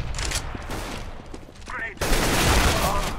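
Gunfire from the video game Counter-Strike: Global Offensive, a burst of loud rapid shots that cuts in abruptly and continues dense, with quieter game sounds before it.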